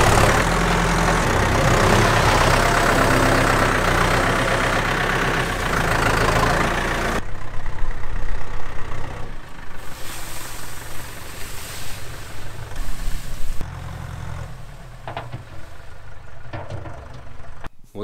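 A chipper machine spreads bedding in a dairy barn, a loud steady engine drone with a heavy low rumble that cuts off abruptly, leaving quieter clattering and rustling bits afterward.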